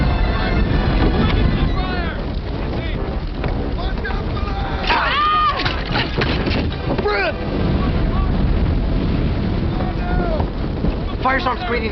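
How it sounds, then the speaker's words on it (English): Strong roaring wind whipped up by a firestorm blows steadily over open water around a sailing vessel, with shouted voices and other noise riding on top of the gusts throughout. "Firestorm's creating its own wind."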